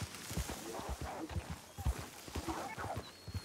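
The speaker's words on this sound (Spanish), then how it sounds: "Pero está el caballo estresadísimo" A stressed horse in Red Dead Online trots with quick, steady hoof clip-clops on the ground, fairly close and soft in level, with faint bits of other game sound behind.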